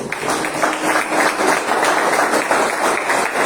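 A church congregation applauds together, a dense steady wash of many hands clapping that holds at an even level for several seconds with no talk over it.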